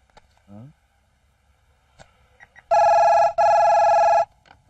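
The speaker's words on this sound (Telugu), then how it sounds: "అయ్యా ఫోన్ అయ్యా." A telephone rings indoors with two loud, bright electronic bursts separated by a short gap, after faint scattered sounds and a brief voice.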